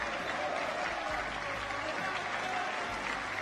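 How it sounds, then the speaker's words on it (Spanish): Ministers and members on the parliamentary benches applaud in a steady, dense wash of clapping that holds at a moderate distance through the whole stretch, with a faint murmur of voices beneath it. "aparecieron los aplausos de apoyo de los ministros y las bancadas oficialistas y del Frente Amplio"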